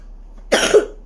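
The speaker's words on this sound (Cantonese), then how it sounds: "咁所以有啲咳。" A single short cough, close and clear, a sharp burst then a brief rasping tail in an otherwise quiet room.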